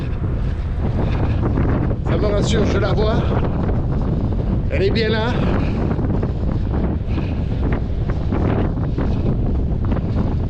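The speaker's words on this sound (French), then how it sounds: "Je suis désolé pour le vent, hein, je vous ai averti." Strong wind blowing on a steep hilltop, buffeting the microphone with a constant loud roar throughout, while someone talks over it.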